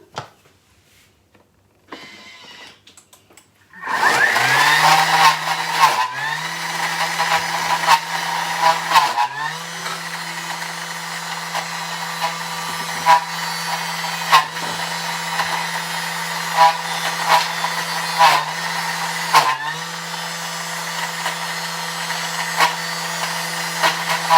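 A Thermomix blends roasted peanuts into peanut butter. After a quiet start, the motor kicks in with a loud, steady whirring drone, and the thick mixture churns with periodic thumps and slight pitch dips throughout.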